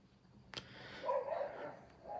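A dog barks once or twice nearby, a short muffled woof followed by a softer yelping call, faint in an otherwise quiet indoor room.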